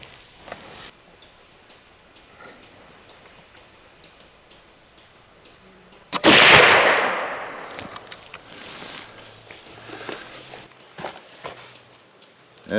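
A single shot from a Pedersoli .32 flintlock rifle, a sharp crack with a loud, sustained whooshing roar that fades over a couple of seconds, preceded by quiet clicks and small handling noises.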